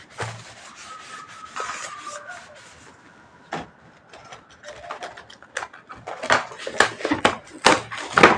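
A hand scrubs over two freshly glued surfaces of a handmade see-through flip-cover box in irregular rasping strokes that grow louder and more frequent toward the end.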